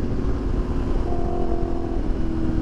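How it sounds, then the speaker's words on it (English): Exhaust of a Yamaha R1M sport motorcycle while riding, a steady close engine rumble with a faint tonal whine and small irregular crackles, under constant wind buffeting. "Listen to that pop."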